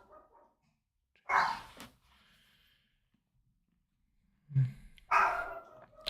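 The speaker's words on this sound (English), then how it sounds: "My doggy is barking." A pet dog barks indoors, giving two separate, fairly close barks several seconds apart, with quiet between them.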